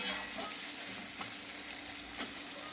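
Onions sizzle in hot oil in a pan with a dense, constant frying hiss, close up, and a few soft stirring scrapes.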